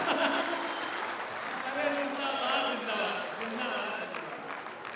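An audience at a Hindi comedy poetry performance claps steadily for about five seconds, a dense, continuous wash of applause with possible crowd voices mixed in.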